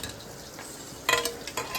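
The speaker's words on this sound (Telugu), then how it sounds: "అన్ని వైపులా ఈక్వల్గా రోస్ట్ అవుతాయి. మధ్యలో కలుపుతూ ఉండాలి" Brinjals roasting in a pan while being stirred, soft sizzling with a few sharp scrapes and clinks of a spoon against the pan near the end.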